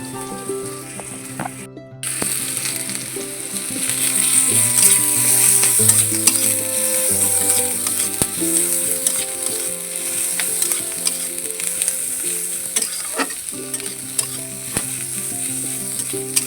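Crushed garlic cloves, pounded on a grinding stone, fry in a pan with a steady, close crackling sizzle and occasional stirring scrapes throughout, without any talking.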